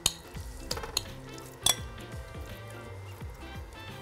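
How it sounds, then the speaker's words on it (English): Beef sears in a pot for a Korean hangover soup, with a low sizzle underneath and several sharp metallic clinks and scrapes of a utensil against the pot. "we are going to sear our beef first"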